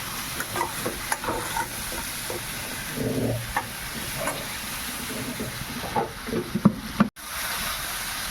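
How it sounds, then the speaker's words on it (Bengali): Vegetables with turmeric sizzle gently in a pan with a little oil for a fish curry, broken by repeated scraping stirs of a spatula and a faint hiss. "হালকা হালকা সবজিগুলো একটু নেড়ে নিলাম হলুদ দিয়ে"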